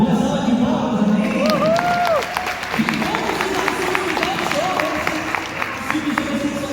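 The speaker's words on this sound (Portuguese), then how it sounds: "Uma salva de palmas, amém?" Church congregation clapping at a talk show event, a crowd's scattered applause building under lingering voices and cheers, then continuing as a steady patter of many hands at moderate distance.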